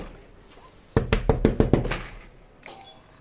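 A hand raps on a latched wooden door in a cold Himachal Pradesh home, seven quick sharp knocks in a tight burst, near and loud, then silence.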